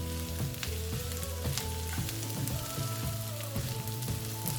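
Desiccated coconut fries and browns in a pan for coconut rice, giving a steady soft sizzle with light stirring scrapes and faint tapping throughout, close and fairly quiet with no talking.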